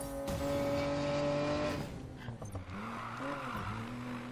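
A Nissan Skyline R34 race car in Need for Speed Payback drives hard, its engine holding a steady loud drone that drops and wavers as it shifts and corners, with no talking.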